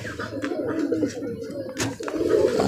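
Pigeons on a rooftop loft with about 150 birds give a steady, close murmur of low cooing that runs throughout, with a brief brighter burst near the middle; no one speaks.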